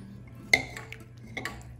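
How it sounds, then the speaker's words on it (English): A whisk works olive oil into ricotta cake batter, giving a few light metallic clinks against the bowl over a quiet background. "I'm gonna start adding my olive oil and start whisking right when I'm adding it"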